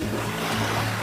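Ocean waves on a beach wash in as a steady, loud, broadband surf roar that fills the whole second without breaks, with no voices.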